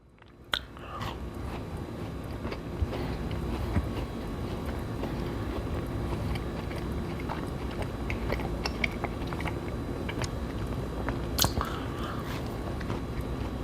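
Continuous close chewing of a Crumbl lemon cookie, soft wet mastication with a few sharper bites and clicks scattered through, steady and quiet with no speech.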